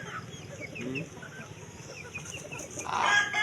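Chickens on a family farm, clucking and calling at moderate distance over a steady outdoor background, with a louder cluck or call rising near the end.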